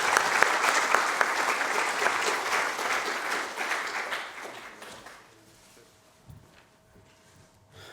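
An audience at a university data science lecture welcomes the speaker with a warm round of applause, a full, steady clapping that fades out after about five seconds into quiet room noise.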